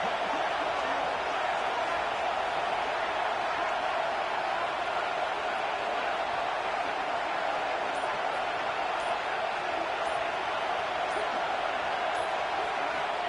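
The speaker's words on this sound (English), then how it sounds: "Listen to the crowd energy here in the early going." Stadium crowd in the video game College Football 26 roars steadily throughout, a dense, even wall of cheering noise with no clear breaks or peaks.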